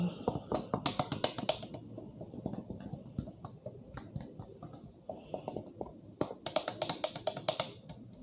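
Sharp knuckle knocks on a motorcycle helmet shell, landing as quick clustered taps in two busy bursts at the start and end, with scattered lighter clicks in between.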